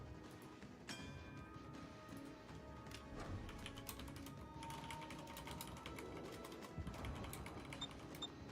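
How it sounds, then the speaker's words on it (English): Faint, irregular clicking of keys as someone types on a computer keyboard, soft tapping bursts spread across the whole stretch with quiet room noise underneath. "Just typing out the chat."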